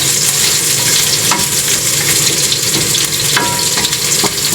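Food fries in a pan with garlic waiting to go in, a loud continuous sizzle with faint clicks and scrapes and no talking.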